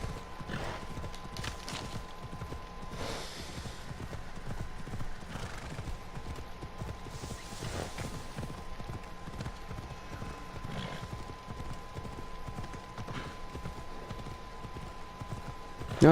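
Horse hooves clip-clop steadily in a rhythmic trot while riding in Assassin's Creed Odyssey, close and moderately loud, with an occasional whinny and a faint steady game tone underneath.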